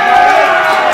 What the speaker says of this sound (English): The Irish lads in the background are cheering on fellow Irishman Mark Owens